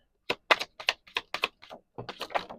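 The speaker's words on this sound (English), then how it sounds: "The cards are not wanting to shuffle." Tarot cards are shuffled in short, sharp bursts of riffling clicks, close and distinct, with brief gaps between each flurry and no talk.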